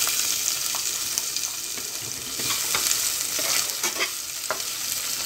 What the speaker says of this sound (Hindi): अब हम फ्राई करेंगे जब तक ये ब्राउनिश कलर नहीं हो जाता है।